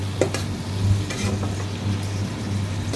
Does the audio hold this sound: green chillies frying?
yes